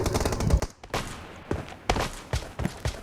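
Gunfire crackles in the battle royale game PUBG, a rapid burst of automatic shots followed by a brief gap and several spaced single reports, loud and close.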